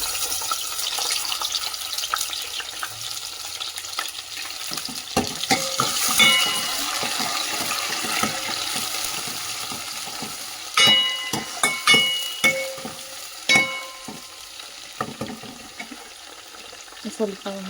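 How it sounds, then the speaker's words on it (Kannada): Chopped onion and coriander frying in about a ladle of hot oil for a tempering, a steady near sizzle broken by scattered clinks and scrapes of stirring, with a few sharper spoon knocks later on. "ಫ್ರೈ ಆಗಲಿ ಈರುಳ್ಳಿ ಮತ್ತು ಕೊತ್ತಂಬರಿ"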